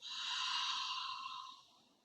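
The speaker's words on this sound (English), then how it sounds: "exhale every bit of that air out" A single long, breathy exhale during a Pilates breathing exercise, close and soft, trailing off gradually to near silence.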